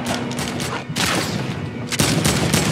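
A Tommy gun fires in a video game during a volcano live event, in rapid, loud bursts of gunfire that run almost continuously with short breaks.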